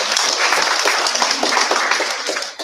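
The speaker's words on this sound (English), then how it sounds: "Give a big applause to you." An audience at an international postgraduate conference applauds, a dense burst of many hands clapping at once that fades toward the end.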